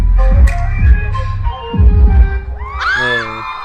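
A crowd of fans shrieks and screams loudly at a boy-band appearance overseas, with sharp bursts and a rising high-pitched wail near the end over a constant roar of voices.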